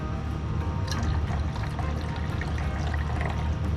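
Water pours steadily into a measuring cup while a salad dressing is being made, a continuous close splashing gurgle lasting a few seconds with no talking.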